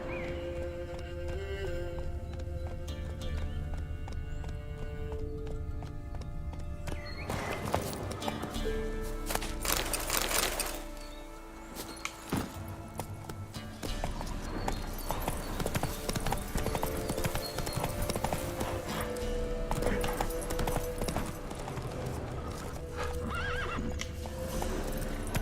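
Roach, the horse in The Witcher 3 game, clip-clops along and gallops with a couple of whinnies, hoofbeats close and continuous, faint voice briefly in the background.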